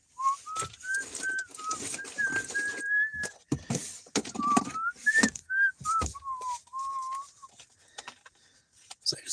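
Someone whistles a melody, a clear wavering tune broken by short gaps. It sits close to the listener under scattered clicks and handling noises.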